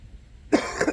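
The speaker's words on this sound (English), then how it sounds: "remainder of my cough" A single short, sharp human cough bursts out close to the microphone after a moment of near silence, with a slight trailing rasp.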